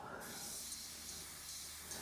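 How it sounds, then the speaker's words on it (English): A steady airbrush hiss of fine, thinned paint spray at very low pressure runs continuously at close range, with a faint low hum underneath. "This spray's very nice"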